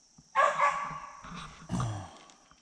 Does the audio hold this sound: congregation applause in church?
no